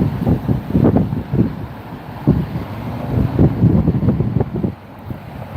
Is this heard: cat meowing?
no